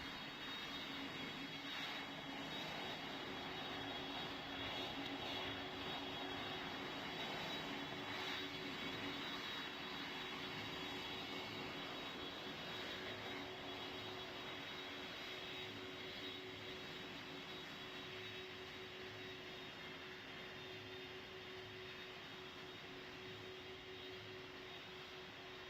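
In the Pilot Training Flight Simulator game, an aircraft comes in to land with a steady, faint jet engine drone and whine, a constant hum with a slowly shifting tone and no voices heard.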